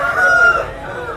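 Country roosters at a Sunday village fowl market in Vizianagaram district give a sustained crow, a steady held call lasting about a second with market bustle around it, fairly close and clear.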